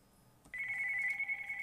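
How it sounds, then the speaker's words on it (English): A telephone rings indoors, a sharp electronic tone starting suddenly and holding steady and loud, heard alone in the room. "Sorry, try to ignore that phone. It's really annoying."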